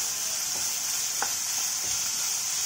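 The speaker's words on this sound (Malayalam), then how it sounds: "സവോള നല്ലൊരു ബ്രൗൺ കളർ ആവും വരെ വഴറ്റിയെടുക്കാം." Sliced onions sautéing in a pan for chana masala, a steady close sizzle with a faint tap or two of the stirring spoon.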